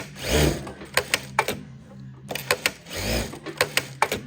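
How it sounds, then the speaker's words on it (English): A Durkopp Adler industrial sewing machine runs in short whirring bursts, each ending in a sharp run of clicks as it trims the thread and the presser foot lifts, close and clear. "So if I trim, the foot comes up automatically."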